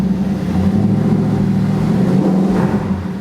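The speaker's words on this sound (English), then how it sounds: "Let's have a little, just have a little feel for the revs." A cheap, high-mileage supercar engine revs gently and steadily, a continuous loud, close drone with slight rises in pitch and no one speaking.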